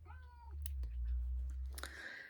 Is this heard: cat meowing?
yes